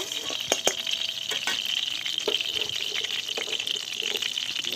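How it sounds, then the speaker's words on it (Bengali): Bitter gourd pieces frying with salt in a pan, a continuous bright sizzle and crackle at close range, broken by sharp clicks of a stirring spoon. "এবার উচ্ছেগুলো দিয়ে দিলাম একটু নুন দিয়ে দিলাম এবার উচ্ছেটা ভেজে নিই"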